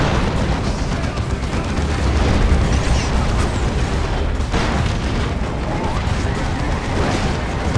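Artillery barrage in Dawn of War 2, a sustained loud rumble of booms and explosions layered over each other, with faint commentary underneath.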